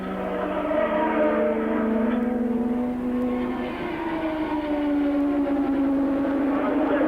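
Formula One turbo cars starting the 1983 French Grand Prix, a steady blend of engine whine with rising and falling pitch as cars pull away toward the first corner, heard at moderate distance for several seconds.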